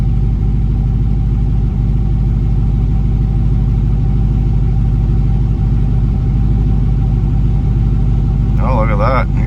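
A Gen 3 Chevy engine on an Aces Jackpot EFI setup idles loud and steady up close, with a continuous low rumble through the whole stretch.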